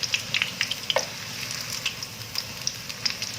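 Ingredients fry briefly in a pan with a bright, crackling sizzle, popping oil and scattered stirring scrapes, close and steady over a few seconds, with no one speaking.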